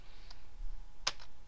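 A computer keyboard being typed on: just a couple of isolated key clicks, one faint and one sharper, close by in a quiet room.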